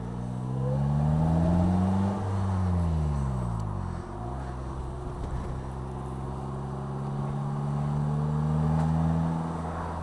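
A Polaris Slingshot three-wheeler driven on the road, its engine loud and close, revving and shifting through gears with rising and falling pitch, steady road and wind roar underneath.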